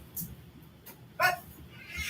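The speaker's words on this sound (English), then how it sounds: "Now the dogs are coming back." Dogs coming back to their owner make short whimpers and a yip, close and fairly quiet, with brief bits of background sound between them.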